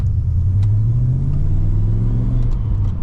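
A V8 HSV VS Manta with a five-speed manual pulls hard, its deep engine note rising steadily in pitch as it accelerates, heard close and loud from inside the car with no talk.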